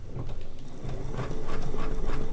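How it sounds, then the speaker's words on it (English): A sewing machine runs a basting stitch while quilt blocks are pieced, with a close, steady mechanical whir and rhythmic needle chatter that holds for just over two seconds. "I'm going to go ahead and do the basting stitch."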